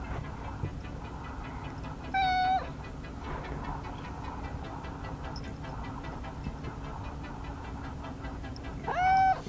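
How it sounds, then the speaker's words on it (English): A cat gives two drawn-out meows several seconds apart, close and fairly loud, over a steady low hum. "he's an ornery cat"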